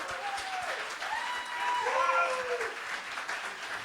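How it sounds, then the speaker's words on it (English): Audience applause for a live band at the X-Cues venue: steady, moderately distant clapping that holds for several seconds, with faint voices mixed in. "Let's give them another round of applause."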